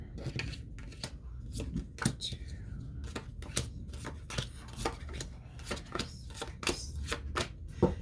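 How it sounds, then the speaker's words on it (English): A tarot deck is cut and its cards laid out, giving a run of crisp card snaps, slaps and shuffling riffles, close and irregular, with soft talk in the background. "I'm going to cut this deck pretty evenly, I might say, and we'll lay out your cards here."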